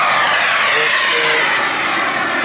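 A jet aircraft flying at the Karlskoga air show roars as a loud, broad, continuous engine rush that holds steady throughout, with talk mixed underneath.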